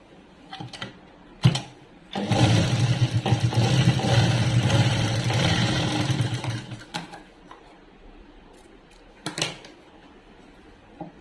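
An electric sewing machine stitches a folded cloth hem in one loud, steady whirring burst of about five seconds, with scattered handling clicks and taps before and after.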